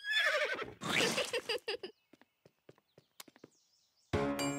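A cartoon horse whinnies loudly twice, with scattered hoof clops and light knocks between the calls, then a bright tonal burst at the end.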